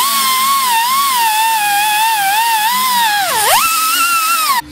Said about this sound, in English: to remove the glue, I'm gonna be using this grinder.